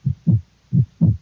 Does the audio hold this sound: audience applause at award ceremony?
no